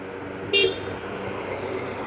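A passing car gives one short, sharp toot of its horn, lasting a fraction of a second, over a low hum of roadway traffic; no one speaks.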